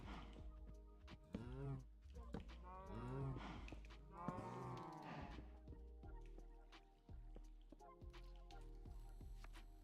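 Several cows moo in long, drawn-out calls in the Minecraft modpack Project Ozone 3, overlapping close together over a low hum, with scattered clicks and taps around them.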